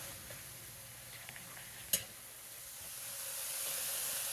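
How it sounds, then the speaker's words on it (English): Eggs are scrambled in a pan, a faint steady sizzle with one sharp tick of the utensil partway through, the frying hiss swelling slightly toward the end. "I'm scrambling in the pan."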